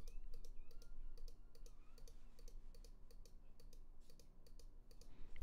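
Rapid mouse clicks stepping through filter presets in the Massive synth, a steady quick run of soft close clicks over faint synth tones.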